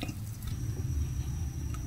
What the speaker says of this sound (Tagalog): na i-drain na natin yung tubig, o na tanggal na natin yung tubig